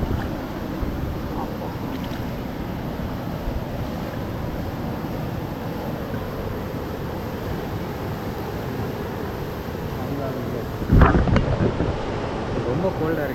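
Steady, broad rushing water from a waterfall on a village trek in Vietnam roars close by, mixed with wind buffeting the microphone and a sudden louder gust or splash near the end.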